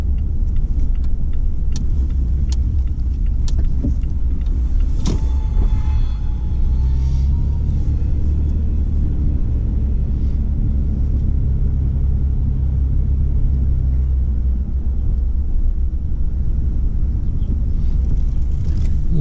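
A car driving through the town streets of Courtenay in the Comox Valley, heard from inside as a steady loud engine and road rumble with a few faint clicks and a passing higher whine.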